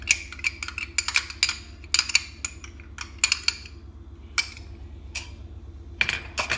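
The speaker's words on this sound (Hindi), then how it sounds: "सबसे पहले एक बड़े बाउल के अंदर मैं ये जो 2 कप बेसन है ये डालूंगी। उसके साथ ये घी मेल्टेड जो 3 टीस्पून है ये डालूंगी।" Gram flour and melted ghee go into a large bowl for besan barfi, giving light metallic clinks and taps of spoon on bowl in scattered clusters over a low steady hum, soft and close.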